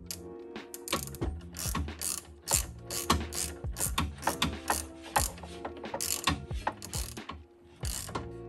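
A ratchet tightens a banjo bolt on a motorcycle brake hose, giving rapid clicking bursts in repeated strokes with short pauses, close and crisp, with no talk.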